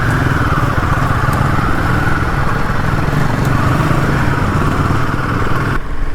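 A Royal Enfield Himalayan 450 motorcycle is ridden on the road in Vizag. The engine drone is loud, close and continuous, with steady exhaust rumble and wind noise throughout and no talk.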